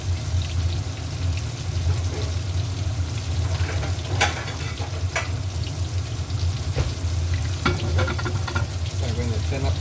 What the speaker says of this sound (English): normally for frying fish